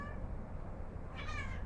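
A cat gives a single short meow near the end, faint and a little distant, over a steady low background hiss.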